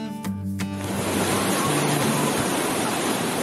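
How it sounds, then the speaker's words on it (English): Flood water from overflowing rivers rushes in a kids' cartoon about natural disasters, a loud, steady broadband roar that continues unbroken after a brief musical start. "This is a flood."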